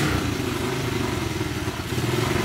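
A customized motorcycle engine idles steadily nearby, a low rumbling putter that holds even throughout with no revving.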